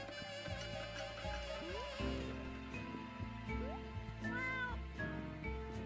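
Cats meow repeatedly in the video game Escape from Ever After, short plaintive calls layered over a soft looping musical background, moderately loud and without speech.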